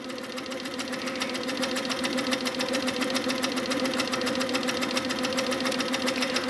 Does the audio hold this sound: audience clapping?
no